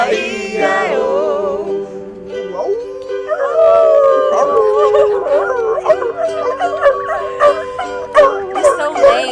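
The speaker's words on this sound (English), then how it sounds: "That was a dog getting hurt." A dog howls and whimpers in pain in a long, wavering, high-pitched cry lasting several seconds, loud and close with other voices faintly mixed in.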